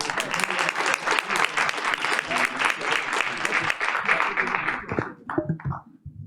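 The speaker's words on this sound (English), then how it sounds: "Let's give those ladies one last round of applause" Sustained applause from an audience at a Board of Education meeting, dense clapping filling the room for several seconds before thinning out and fading at the end.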